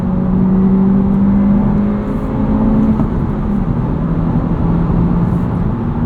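A 2025 Honda Civic Si engine drones and revs steadily, the pitch climbing and dropping briefly as it shifts gears, loud and close throughout.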